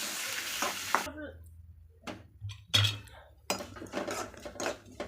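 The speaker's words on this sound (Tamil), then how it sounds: "இது நல்லா வதக்கிக்கலாம்." A large onion, sliced, sautés in a pan for a fish curry, with soft sizzling and intermittent stirring scrapes broken by a brief quiet gap, close and moderately loud.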